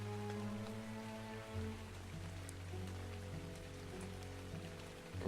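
Rain falling in the video game ARK, a faint continuous patter on surfaces beneath sustained tonal background music, with no talk over it.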